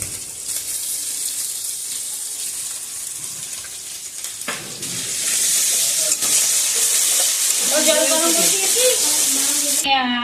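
Ginger, garlic and chili paste hits a hot pan with steady sizzling, louder after the first few seconds, alongside stirring and a brief scrape.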